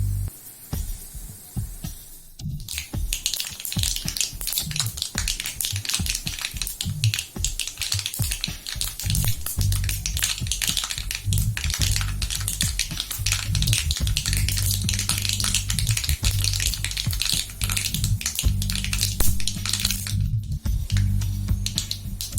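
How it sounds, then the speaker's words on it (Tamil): Dense, rapid crackling and popping of mustard seeds in hot oil, continuous and close, with a brief pause near the start and end. "கடுகு நல்லா வெடிக்கட்டும்."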